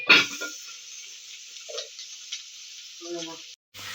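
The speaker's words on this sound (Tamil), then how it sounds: "சுண்டலை போட்டு நல்லா தேங்காய் கூட படுற மாதிரி மிக்ஸ் பண்ணி விடுங்க" Boiled chickpea sundal with grated coconut and dried red chillies being tossed in a pan, with a thin sizzle and a few soft spoon scrapes, close and fairly quiet, and no talk.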